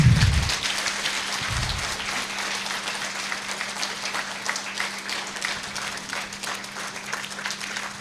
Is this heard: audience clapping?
yes